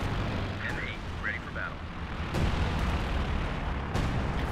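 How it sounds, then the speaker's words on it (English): An artillery barrage rains down in the real-time strategy game Company of Heroes 2: a continuous rumble of heavy explosions with louder booms surging at intervals, while a commentator talks over the battle. "All sorts of artillery dropping down those."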